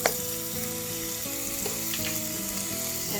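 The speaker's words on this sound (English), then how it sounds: "we are going to cook it until the garlic goes brown" Garlic sizzles steadily in about a tablespoon and a half of hot oil, a close, continuous crackling fry with a sharp pop at the start and light stirring over a musical background.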